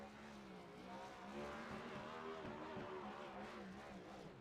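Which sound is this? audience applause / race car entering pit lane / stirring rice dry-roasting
race car entering pit lane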